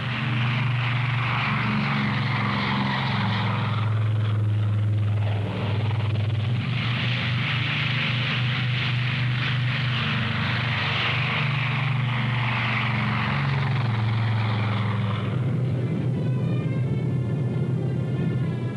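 Propeller aircraft engines, Air Force C-54 and C-47 transports, drone loudly and steadily throughout, a deep continuous roar with a rising whine near the end.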